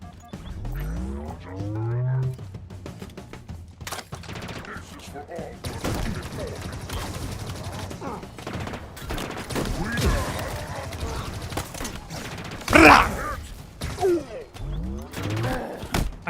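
Gunfire in the video game Halo Infinite: dense, loud bursts of shots and impacts with other battle noise over the whole stretch, with a sharper burst near the end.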